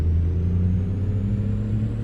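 A Kenworth W900 truck in American Truck Simulator, running a 750 hp C12 engine sound mod, idles with a steady, deep diesel drone and low harmonic hum, close and unbroken.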